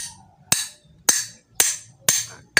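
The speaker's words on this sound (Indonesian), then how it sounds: "kita akan coba untuk memukul di sini untuk melepas dari bearingnya" A hammer strikes a motorcycle sprocket to knock its bearing loose, five sharp metallic blows landing about half a second apart, each ringing bright and close before fading, over faint background clatter.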